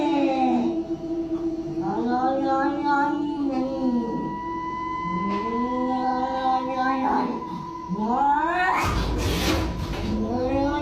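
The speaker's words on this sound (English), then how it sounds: "the cat just keeps freaking out" A frightened cat caterwauls at night, letting out long, rising and falling wails and yowls over and over, loud and close, with a sharp hissing burst near the end.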